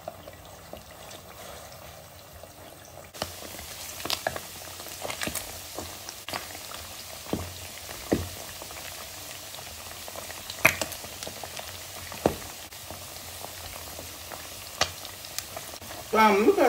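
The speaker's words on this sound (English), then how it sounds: "Look at how the meat has fried beautifully." Beef frying in a pot for a Ghanaian roadside stew: a quiet, steady sizzle broken by occasional sharp scrapes and clinks of stirring, heard close with faint background noise.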